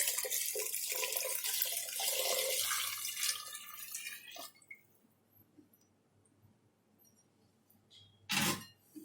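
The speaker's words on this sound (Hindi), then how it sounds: "आधा किलो मैंने इसमें पानी डाला" Water poured into a pressure cooker of rice while making an instant chicken biryani, a steady, close splashing stream for about four seconds, then quiet with a brief splash near the end.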